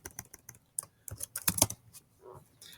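Quick, uneven clatter of keys on a computer keyboard, bursts of light taps close by in a quiet room.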